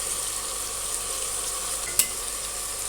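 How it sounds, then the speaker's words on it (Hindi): Mutton fries in a pot with garlic ginger paste, a steady, close hiss of sizzling oil running throughout, with one brief clink of a utensil near the middle and no voices. "गोश्त हमारा भुन रहा है"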